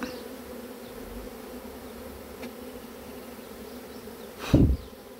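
A swarm of honeybees being caught hums as a steady, soft background buzz, with a brief louder thump near the end and no talk.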